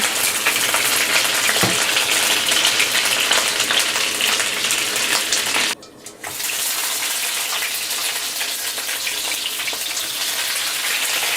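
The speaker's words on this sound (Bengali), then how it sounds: "দেখুন 2 মিনিট মতো আমি মাছগুলোকে ভেজে নিলাম" Lobster prawns frying in mustard oil in a pan give a loud, steady, hissing sizzle that cuts out briefly midway before resuming, close and continuous with no talk.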